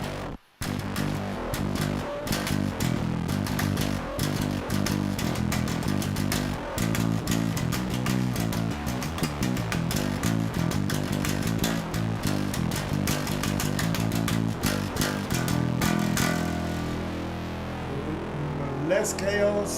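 Guitar through a Rabbit Hole FX fuzz pedal, heavily driven and biting, strums a dense, harsh, buzzing wall of fuzz nearly continuously and close up, fading into a sustained ringing tail at the end.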